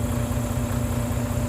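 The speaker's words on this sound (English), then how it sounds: "You ever see a motor run away?" A Volvo truck's diesel engine in a runaway state, a loud, steady low rumble with a constant droning hum running continuously throughout, close by and alone with no talk.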